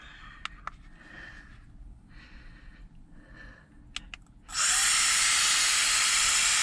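A few clicks and soft hisses, then a loud, steady high-pitched blowing whine from a Meco Eleverde battery-powered air duster kicks in abruptly and holds at full strength.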